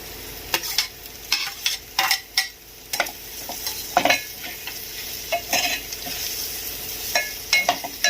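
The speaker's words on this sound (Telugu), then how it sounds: "ఇలా ఫ్రై చేసుకున్నాక ముందుగా వేపు పెట్టుకున్న ప్రాన్స్లోనే వేసుకోవాలి." Masala frying with fried prawns in a pan for a prawn and egg curry, steady sizzle broken by repeated sharp stirring scrapes and clinks of a spoon against the pan, close and fairly loud.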